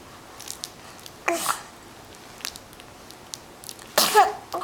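A young child gives two short, sharp sneezes a few seconds apart in a quiet room, with small mouth noises between them.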